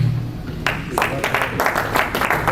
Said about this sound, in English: That calls for a big round of applause